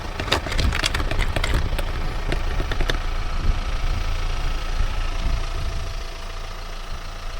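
Volkswagen T7 van engine idling while parked after possible radiator damage, a steady low rumble running throughout, close and continuous, with a few sharp clicks or knocks early on.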